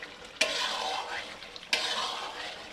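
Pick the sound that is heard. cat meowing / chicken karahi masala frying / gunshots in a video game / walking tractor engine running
chicken karahi masala frying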